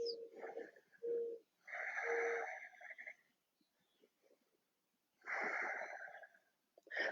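Slow, audible breaths in a yoga flow, drawn in and pushed out with a raspy, wheezy edge in several long strokes separated by a quiet pause.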